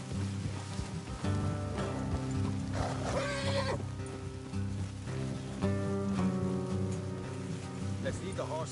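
Horses in Red Dead Redemption 2 move along a road with hoof clip-clops and a whinny, set under a steady bed of game music and ambient noise at moderate level.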